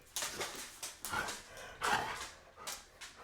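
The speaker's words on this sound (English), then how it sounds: "the doggo is coming right at the perfect time" A dog whimpers and gives several short, soft barks and yips in uneven bursts, fairly close but not loud, with no talking over it.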